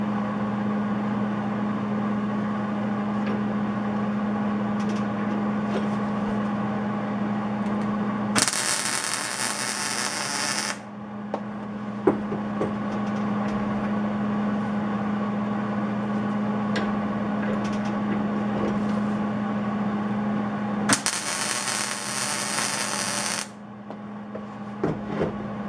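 A welder joins a square head wrench: a steady electric hum runs throughout, and two loud bursts of harsh crackling arc noise last a few seconds each, close and with no talk.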